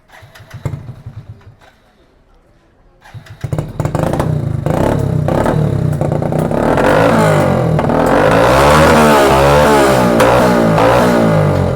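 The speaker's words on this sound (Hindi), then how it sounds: "अब दिखाते हैं तुम्हें अपनी बाइक का साउंड चेक।" A motorcycle with a modified silencer pipe starts after some clatter, then idles loudly and revs repeatedly with a throaty roar, rising and falling close by.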